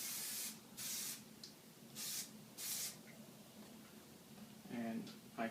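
Plasti Dip sprayed from an aerosol can onto SRT-4 stripes comes as four short hissing bursts of about half a second each, close by. Someone talks briefly at the end.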